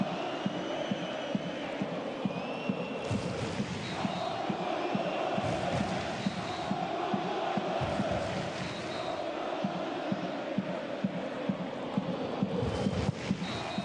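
Western Sydney Wanderers supporters roar and chant continuously at the Parramatta stadium during an Asian Champions League match, a dense, loud crowd wash with rhythmic beats and a faint commentator's voice over it.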